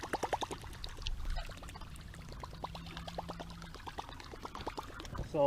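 Water splashes and gurgles in quick rhythmic bursts as a topwater musky tail bait is pulled across the surface, with small pops and trickling between.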